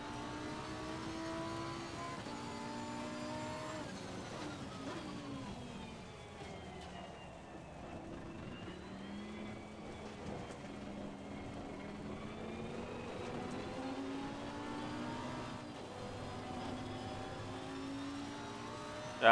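Race car accelerating in a racing video game during a rainy race, a steady engine drone rising and falling in pitch with gear changes, continuous and fairly loud throughout.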